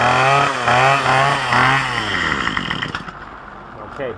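A Craftsman string trimmer engine revved with the throttle during carburetor tuning, a loud close buzzing two-stroke whine that rises and wavers, then drops back toward a rougher idle.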